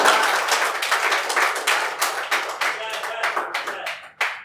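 Audience applause at a live Hindi poetry recital, dense clapping from a nearby crowd with uneven bursts that thin out and pick up again near the end.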